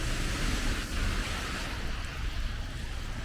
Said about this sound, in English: Pouring rain as we head outside and head back to the hotel to pack